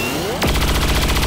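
Rapid gunfire in XCOM 2 as a soldier shoots at the codex: a swooping whoosh gives way to a loud, steady burst of closely spaced shots, no voices.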